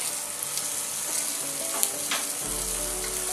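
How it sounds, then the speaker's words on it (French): Rabbit legs browning in a hot pan give a steady, close sizzle and crackle of frying fat, with a few brief stirring scrapes and no talking, and a low hum joins near the end. "La première des opérations, c'est faire rissoler les cuisses de lapin."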